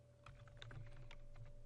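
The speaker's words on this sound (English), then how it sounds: "once I am typing in some data" Computer keyboard typing while entering numbers and labels into a spreadsheet, a quick run of close, light key clicks in an uneven rhythm over a steady low hum.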